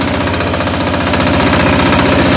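A Motor Sich MB-9DE walk-behind tractor engine runs loud and close, with a steady rapid chugging and knocking pulse and no talk.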